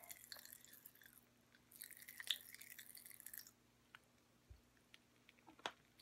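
Close, wet mouth sounds come from someone chewing Pop Rocks popping candy, with sporadic crackles, clicks and smacks in uneven bursts amid quieter pauses.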